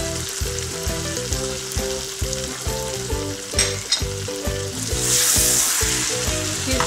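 Karahi kabab masala fries in oil, with chopped coriander and green chili added, producing a steady loud sizzle and close stirring scrapes throughout, alongside background music.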